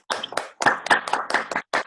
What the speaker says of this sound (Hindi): मैं चाहती हूँ सबसे पहले एक जोरदार सा ताली।